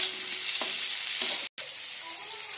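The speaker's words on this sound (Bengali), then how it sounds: "যখন তেলটা চলে আসবে তখন আমরা অ্যাড করছি আমাদের শুটকি মাছ সেদ্ধ করাটা।" Boiled dried shutki fish sautéing in hot oil, a loud, dense, continuous sizzle with a couple of faint stirring taps, cut by a brief dropout before resuming.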